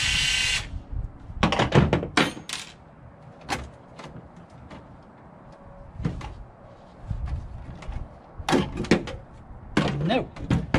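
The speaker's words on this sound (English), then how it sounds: "I'm going to take this bracket off." Screws are removed from the bracket of a Cisco 2900 series router being scrapped for e-waste, heard as intermittent metallic clicks, scrapes and rattles, close and moderately loud, with quiet gaps between bursts of handling.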